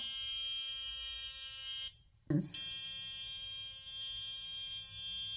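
A ProFacial high frequency skincare wand buzzes steadily on skin with a thin, high electric hum, cutting out briefly with a soft bump before resuming close and alone.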